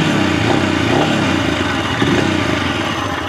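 Royal Enfield Scram 411 scrambler from 2022, its single-cylinder engine running with a steady, deep, throbbing exhaust note, loud and close, with no voices over it.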